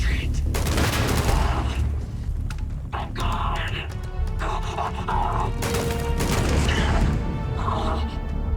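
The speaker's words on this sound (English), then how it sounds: "Oh shit, someone got a grenade launcher." Grenade launcher blasts and gunfire during a firefight in the video game Starfield: repeated booms and crashing impacts with bursts of shots, loud and dense, with a voice talking over parts of it.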